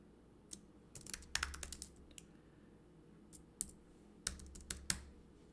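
Typing on a computer keyboard, sharp clicking keystrokes in short irregular bursts and single taps, fairly close and clear over a quiet room with no voices.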